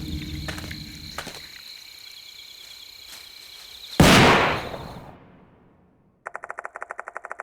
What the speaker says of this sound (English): Suddenly the sound of a gunshot rings out and reverberates through the shrine grounds.